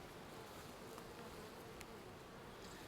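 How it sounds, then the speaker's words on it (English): Honey bees swarm around a heavy hive frame dripping honey from crosscomb, producing a soft, dense, continuous buzz that fills the air without any talking. "Look at all those bees."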